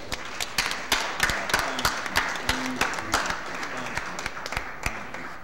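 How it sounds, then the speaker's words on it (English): Applause at a St. Louis Board of Aldermen meeting, a steady round of many hands clapping across the chamber, sustained and moderately loud for several seconds. "So let's give them one more round of applause."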